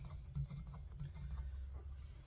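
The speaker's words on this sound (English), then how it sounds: "Scuff it up a little bit. Try to smooth it back out." Abrasive scuffing on the metal of a Marlin 93 rifle to smooth out nicks, quiet close rasping strokes in a quick uneven rhythm.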